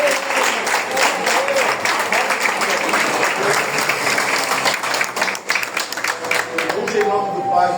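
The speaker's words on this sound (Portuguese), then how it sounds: "Pode aplaudir o Senhor." A church congregation at a consecration service for deaconesses and evangelists applauds loudly and continuously, with voices calling out among the dense clapping throughout.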